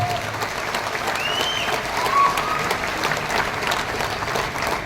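A large audience at a speech event in Surat breaks into sustained applause for senior leaders, a dense steady wash of clapping with a few faint whistles and murmurs, loud throughout.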